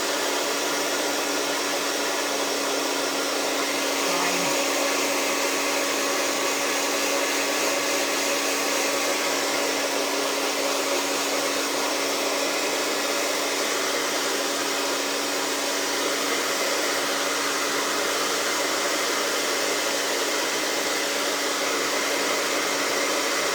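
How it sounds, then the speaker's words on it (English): A heat tool blows air steadily to dry a craft project, a loud, constant close roar with a fixed whine that runs unbroken throughout, with no talking. "I gotta get a new heat tool."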